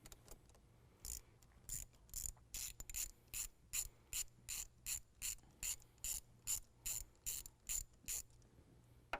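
A ratchet wrench clicks in a steady run of about sixteen quick bursts while loosening a 10mm nut under the hood of a 2017 Ford F-250 Powerstroke, close and fairly quiet, with a low hum beneath.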